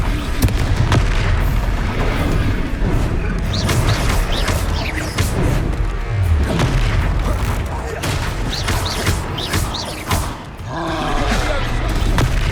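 A Confringo blasting spell erupts amid a loud Hogwarts Legacy battle: heavy booming blasts and roaring magical impacts layered over constant dense combat noise, with scattered voices in the fray.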